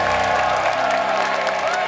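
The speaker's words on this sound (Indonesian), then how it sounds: "Lady Repot tepuk tangan lagi dong" Studio audience applause on an Indonesian TV talent show, a dense steady wash of clapping over a low humming, tonal background, holding at an even level for about two seconds.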